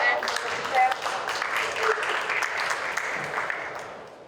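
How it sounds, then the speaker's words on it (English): Moderate applause from a vegetarian congress audience greeting a speaker named George, a soft, steady wash of clapping that fades gradually, with some faint voices underneath. "So let's applause for George and Mr. Chair."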